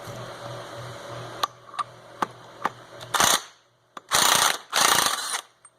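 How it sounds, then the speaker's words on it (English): Ratchet wrench loosening the clutch nut on a Polaris Predator 500 ATV, starting with a few sharp separate clicks and then breaking into three loud, rapid ratcheting bursts close by. "You want to remove the nut."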